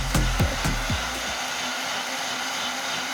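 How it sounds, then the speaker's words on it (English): A motorized grinder grinding ingredients whirs loudly with a few sharp chopping thumps at the start, then settles into a steady, continuous high-pitched drone. "Gonna grind that up, get a little grinding here ourselves."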